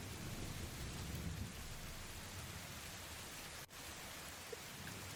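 Steady, soft rain hisses evenly throughout as an ambient backdrop to a homebrew Dungeons & Dragons session, faint and continuous with no voices.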